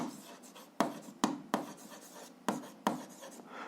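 Pen or chalk writing out an algebra solution, a series of close scratchy strokes with sharp onsets, about six in under four seconds, with no talk.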